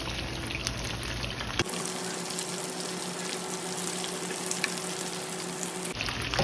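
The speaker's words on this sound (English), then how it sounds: "I'm flipping the shrimp to the other side so they can finish frying and getting crispy" Continuous crackling sizzle of shrimp frying in hot oil, dense fine pops close up, steady throughout with no talking.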